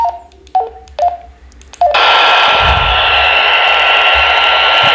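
A few short beeps, then the squelch opens on a WLN KD-UV1 dual-band 5W handheld radio, releasing a loud continuous rush of hiss that lasts to the end, with a low rumble under it.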